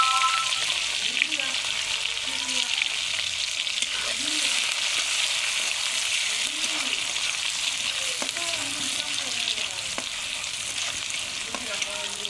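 Onion and dried chillies frying in oil, a steady bright sizzle heard close up with occasional soft clinks and scrapes of stirring.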